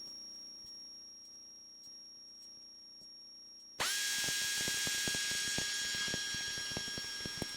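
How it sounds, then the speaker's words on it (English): Retractable landing gear of a Cessna 172 RG coming up after takeoff: a sudden loud electric motor whine starts midway and keeps running steadily, with a faint tone and clicks beforehand. "That's the sound of my gear coming up."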